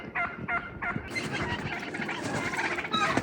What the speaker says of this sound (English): Okay, there's a few turkeys.